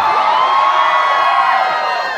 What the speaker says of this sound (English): This is an amazing crowd